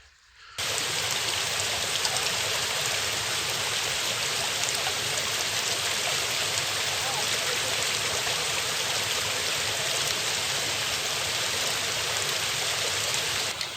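A cold mountain stream on a hiking trail rushes steadily, a dense unbroken wash of flowing water that stays loud and close throughout with no voices.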